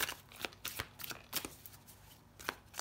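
A deck of cards being shuffled and one drawn for a tarot-style reading: a rapid run of crisp, close riffling snaps and flicks, irregular and fairly quiet, with no speech.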